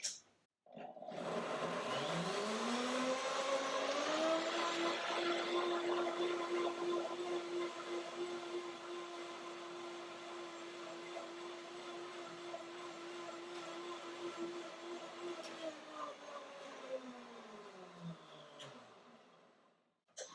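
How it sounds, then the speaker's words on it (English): A powerful kitchen blender whirs up to a high, steady motor whine, runs strongly for about fifteen seconds, then spins down and stops, with nobody talking over it. "in Germany you have a very good blender here, very powerful, very inexpensive"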